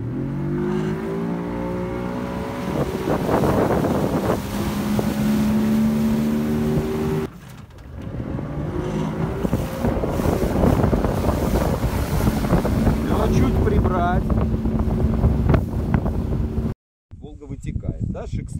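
A motorboat engine drones loudly across the water on Lake Seliger, pitch shifting as it speeds up, with heavy wind buffeting the microphone, people talking over it, and a brief dropout near the end.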